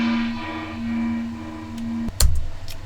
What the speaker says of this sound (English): Very small gong, but we mic'd in stereo.